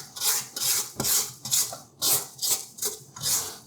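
A spatula scrapes down maple brown sugar cookie dough of creamed butter and brown sugar inside a mixer bowl, making close rhythmic rasping strokes about twice per second with no talking.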